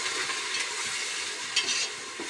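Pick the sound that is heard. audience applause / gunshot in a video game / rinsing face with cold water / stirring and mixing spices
stirring and mixing spices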